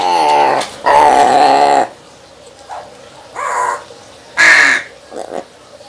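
A black crow caws loudly and close by while eating cat food, giving several harsh, drawn-out calls separated by short pauses.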